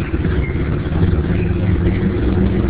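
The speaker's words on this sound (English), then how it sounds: "you should be able to hear the engine smoothing out" A truck engine running steadily after a MAP sensor adjustment, its low rumble settling into an even idle, loud and close with no talk.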